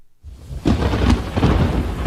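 Rolling thunder and steady rain open a song as its intro, the storm rising from near silence into a loud, continuous rumble with a dense wash of rainfall.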